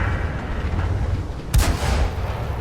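A single heavy tank cannon boom from a Churchill VII in a World of Tanks-style video game cracks out midway over a steady low engine rumble, echoing briefly before the drone continues.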